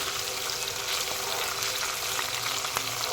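Steady oil sizzle and crackle of onions, green chillies and tempering seeds frying, continuous and close, with occasional soft pops and no talking.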